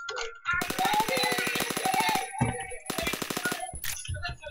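Rapid bursts of video game gunfire rattle close and loud in two long volleys with a short gap between, then a few scattered shots, with voices calling out around them.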